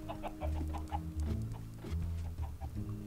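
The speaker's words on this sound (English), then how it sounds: "I hear some chickens somewhere." Chickens cluck in the Minecraft game, repeated short clucks in an uneven rhythm over a steady low hum, fairly close and moderately loud.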